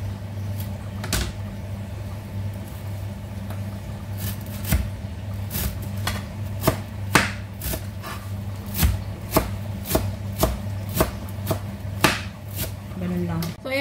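A knife chops softened vegetable stems into very small pieces for a salad, giving a run of sharp, close taps on a board that come faster toward the end, over a steady low kitchen hum.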